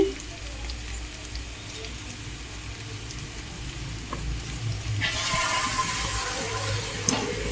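Chilli powder sizzling in a pan with frying ivy gourd (dondakayalu) in a home kitchen: a steady low crackle that swells into a brighter, louder hiss partway through, with no talking.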